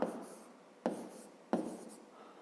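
Pen or pencil writing out a math solution on paper, a steady scratchy scrawl broken by three sharp taps as new strokes begin, close and fairly quiet with no talk.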